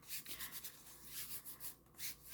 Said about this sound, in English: So I'm just smoothing that over just to make sure I don't have any little fuzzies or little air pockets or any wrinkles